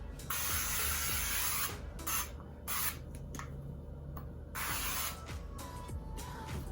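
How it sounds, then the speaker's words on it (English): Several bursts of sunscreen aerosol spray hiss out onto skin in quick succession, close by, with short pauses between them and a quiet background. "I like to spray on my body and like my shoulders and my collarbone"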